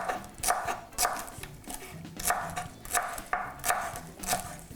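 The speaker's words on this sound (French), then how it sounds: "Voilà, hacher finement." Coriander leaves and stems being finely chopped with a knife on a board, a quick series of crisp, close cuts in uneven bursts of a few strokes each, with no talk.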